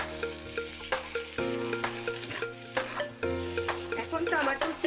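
Spice paste with tomatoes being sautéed in a pan, a steady sizzle with frequent scraping strokes of the spoon and a faint tonal hum underneath.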